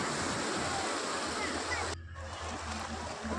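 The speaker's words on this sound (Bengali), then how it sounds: "এই দেখো ঢেউ চলে আসছে" Constant rush of ocean waves washing in at RK Beach in Visakhapatnam, which drops off abruptly partway through, leaving quieter surf and low rumbling.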